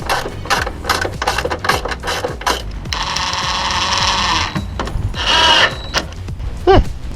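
Wrenches and bolts clatter while the front end of a Peugeot 206 is being bolted up, with sharp metallic clicks and ratchet-like bursts at close range, plus a couple of longer grinding rattles.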